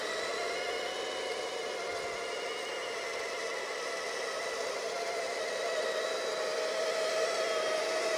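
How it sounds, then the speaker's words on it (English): A heavy RC truck's electric motor strains under load with a steady, high whine over a rushing whir. It stays continuous, grows a little louder near the end, and no one talks. "That motor is working hard already. It's such a heavy machine."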